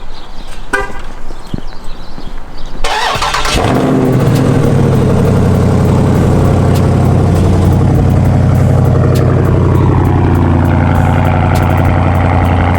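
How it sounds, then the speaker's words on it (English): A car engine cranks and catches, then settles into a loud, steady idle that holds close and constant for several seconds, with faint rain outside. "Start the car."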